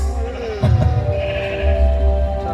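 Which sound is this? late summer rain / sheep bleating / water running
sheep bleating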